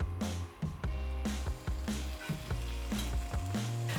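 Oil sizzles and spits in an indoor grill pan while kebabs of chicken, vegetables and sausage cook, a close, steady crackle broken by a few soft pulses and clinks.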